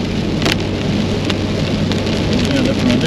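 Steady rain hisses close by, a dense continuous patter with a faint low rumble underneath and no voices.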